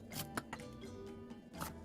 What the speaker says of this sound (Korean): 고명용 대파로 길게도 썰어요.